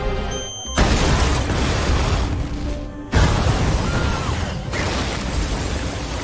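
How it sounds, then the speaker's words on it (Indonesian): A bomb planted in a cafe detonates in an action film scene, a loud sudden blast followed by a long roaring rumble of debris and a second heavy burst that keeps rumbling, with no speech. "Ia pun meledakkan bom yang sudah dipasang di kafe"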